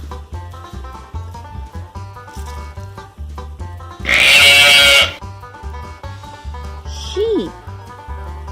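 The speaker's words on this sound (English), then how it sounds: "Sheep." A single loud sheep bleat bursts out over a bouncy nursery-rhyme tune with a thumping bass line, lasting about a second, followed later by a brief sliding squeak.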